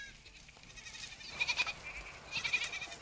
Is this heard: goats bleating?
yes